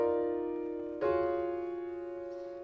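A looped recording of four piano chords plays quietly on its own, with a sustained chord ringing out and a fresh chord struck about a second in, then decaying slowly.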